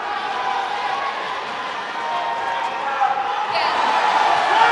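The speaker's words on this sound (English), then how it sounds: "eight match points greeted by a huge cheer from the Indian fans" Indian fans roar in a badminton stadium during a Badminton Asia Championship 2023 quarterfinal, a broad crowd cheer that surges louder toward the end beneath a commentator's voice.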